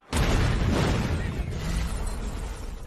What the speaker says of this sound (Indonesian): mereka dikagetkan dengan suara ledakan bom